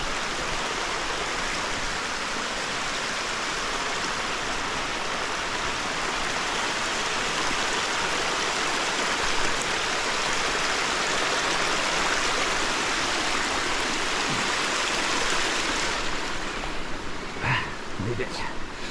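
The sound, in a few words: woodland stream flowing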